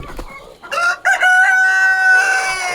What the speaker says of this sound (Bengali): মুরগি প্যারেন্টসের ভিতরে অনেক শব্দ